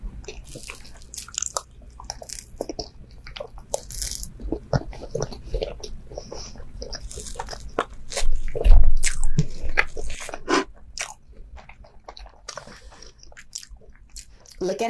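Rainbow cake with light whipped cream being eaten close up: soft squishy bites and steady chewing, with moist smacking sounds throughout and a louder burst of munching midway, no talking.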